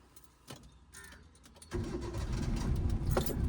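A car engine is started with the clutch fully pressed: a few faint clicks and key sounds, then the engine catches and turns over into a steady, close, rumbling idle.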